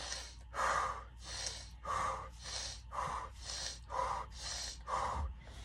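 Deep breaths during a hamstring stretch, a steady series of about eight strong, airy inhales and exhales at close range in a quiet room.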